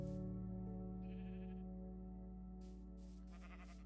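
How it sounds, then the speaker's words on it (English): Sheep in Zedcraft, a Minecraft-style video game, giving a short, faint, wavering bleat over a steady droning background tone, followed by brief soft noises. "I guess it's just the cows and the sheep."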